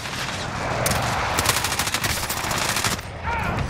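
Rapid automatic gunfire in Call of Duty Warzone on PlayStation 5, loud and dense bursts rattling almost continuously for several seconds with a brief dip near the end, chaotic battle noise throughout.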